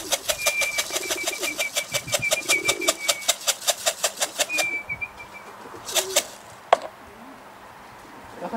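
Racing pigeons arriving at a breeder's loft in Kociewie, Poland: a fast, steady run of wingbeats flaps close by for several seconds, then a few separate flaps and a sharp knock follow over quiet background.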